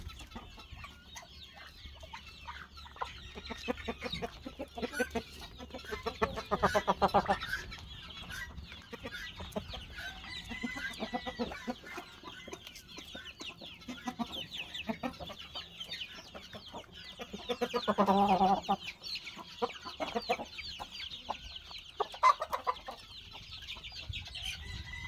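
Chickens and chicks in a coop cluck softly and intermittently, a faint low chorus with a few louder bursts of clucking scattered through the stretch.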